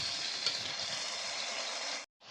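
A vegetarian biryani masala gravy, mixed with ground spices and a little water, sizzles steadily in a pan. The hiss holds even and close for about two seconds, breaks off into a brief silence, then picks up again.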